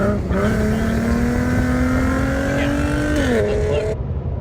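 Loud black Ford Mustang engine holding a steady rumbling drone with a slight rising pitch, then a quick dip as it shifts, heard up close and alone before cutting off abruptly.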